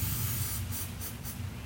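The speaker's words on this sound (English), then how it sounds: "and we'll spray the shaft" Cleaner is sprayed onto a pump shaft during seal replacement on a Groundsmaster 322D mower, in three quick, close hissing bursts over a low background hum.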